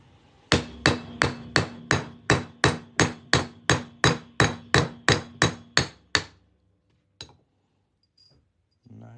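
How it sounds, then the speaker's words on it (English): A hammer strikes an 1899 Morgan silver dollar being shaped into a ring, with sixteen sharp, evenly spaced metallic blows ringing close and loud, followed by a couple of lighter taps after a pause. "we're just going to hammer this on through"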